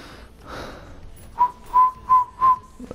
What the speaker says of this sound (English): Did you guys hear how good at whistling I am?